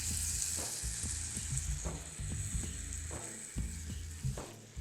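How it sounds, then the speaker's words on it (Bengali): Eggs and potatoes stirred into hot frying spices for egg biryani, a steady close sizzle broken by repeated soft thumps and scrapes of stirring, with no voices. "ডিম আর আলুগুলো আমি দিয়ে দিচ্ছি।"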